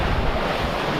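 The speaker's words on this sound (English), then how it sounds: "very late and very windy and very wild" Gale-force wind and crashing waves surround a Balance 526 catamaran at sea near Cape Point, a loud, dense, continuous roar of surf and gusting air heard on its own.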